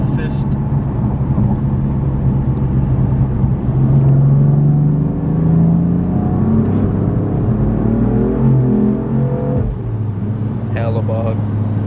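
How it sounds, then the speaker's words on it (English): BMW F80 M3 running on E85 during a 4th-to-5th gear pull, a loud droning engine and exhaust note rising in pitch, dipping briefly at the shift and climbing again, heard from inside the car with people talking over it. "this is a 4th gear pull to 5th"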